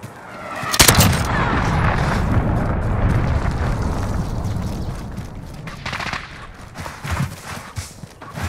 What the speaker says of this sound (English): Allied cruise missile launched